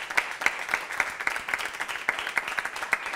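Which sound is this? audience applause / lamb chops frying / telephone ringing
audience applause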